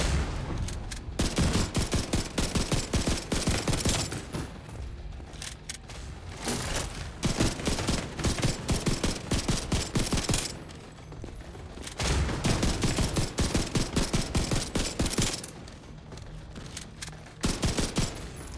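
The Iron Horse rifle in The Division 2 fires long, rapid automatic bursts, loud and close. Several sustained volleys are separated by short pauses, with dense echoing shots in each burst.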